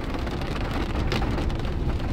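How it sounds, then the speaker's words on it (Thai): Steady, loud rain falling at a house, a dense continuous hiss and patter that fills the whole clip with no voices. "ฝนตก"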